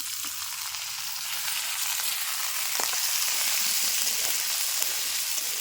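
Potatoes dropped into a pan of lightly fried onions and chilies, a dense, steady hiss of frying that swells louder after the addition and continues unbroken, close by with no talking.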